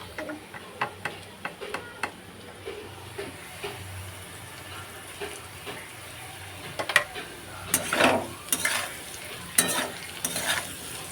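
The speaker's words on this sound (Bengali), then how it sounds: "রাতে এই আলু ভাজাটা করব" Potatoes being stir-fried for a simple home dinner, with a spatula scraping and clicking against the pan in irregular strokes over a soft, low sizzle; no one speaks.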